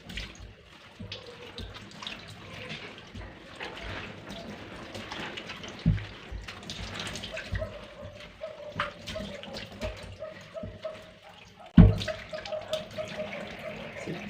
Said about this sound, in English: Just rinse with water